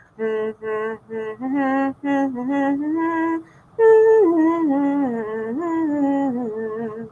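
The tune of "Row, Row, Row Your Boat" played as clear, sustained tones, starting with short repeated notes and then flowing into a smoother phrase, with no singing.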